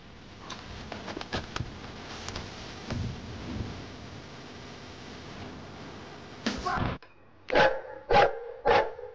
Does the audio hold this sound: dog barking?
yes